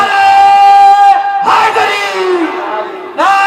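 A crowd at a religious gathering roars the slogan Naara-e-Haidari in loud, drawn-out unison shouts that swell, break off and start again near the end.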